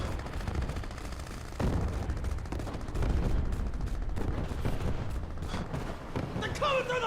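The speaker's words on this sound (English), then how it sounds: "There's a guy still firing his scar here somewhere." SCAR rifle fire in Crysis Remastered, repeated gunshots and bursts echoing across a battle, some booming, loud and continuous, with voices speaking underneath.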